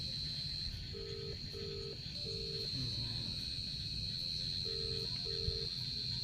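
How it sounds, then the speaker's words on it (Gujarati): A phone on speaker ringing out unanswered, repeating short tone pairs twice over a steady background hum. "વાજી ઉપાડતો નહીં છે"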